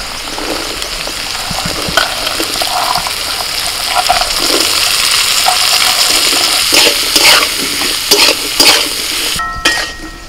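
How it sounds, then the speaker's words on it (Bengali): Beans, capsicum, carrot and peas seasoned with salt, turmeric and green chilli fry loudly in a pan, giving a dense continuous sizzle with occasional utensil scrapes and clinks close by. "সবজিগুলো 2 মিনিট ভেজে নিয়ে"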